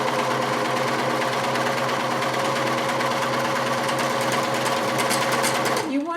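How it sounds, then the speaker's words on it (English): A serger hums at a steady, fast rapid stitch close by, sewing along a fabric edge, running continuously before stopping abruptly near the end. "So I'm just sewing right here along this edge."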